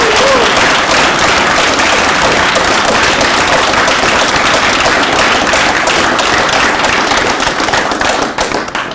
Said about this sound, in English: I think that's worth a very big applause and maybe a cheer or something